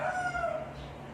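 A rooster crows once on a farm where fighting-cock breeding stock is kept, the call fairly faint and set back from the listener, with a little background noise and no talking.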